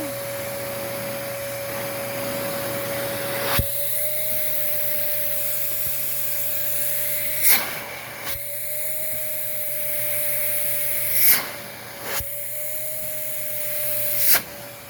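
A Dyson DC21 vacuum cleaner runs steadily during a suction test, a loud, even motor whine with a constant high tone, broken by a few brief surges and dips in airflow.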